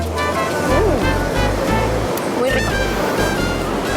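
Pacific surf at Boca de Pascuales beach near Tecomán, Colima, rolls in a continuous loud roar close by, heard from a seaside restaurant with voices and brief background sounds over it.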